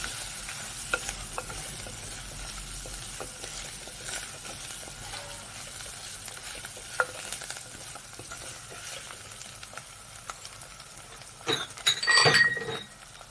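Potatoes are stirred in a frying pan for a mutton curry, soft scraping and stirring under a faint sizzle, ending with a louder burst of clinking and sizzling near the close.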